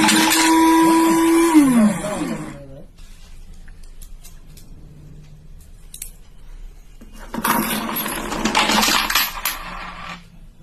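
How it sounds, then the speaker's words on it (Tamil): An automatic coin separator runs as its motor switches on with a rising whine, then coins rattle and drop through the mechanism in a loud clattering burst after a quieter stretch. "மோட்டரோட சுவிட்ச் ஆன் பண்ணலாம்."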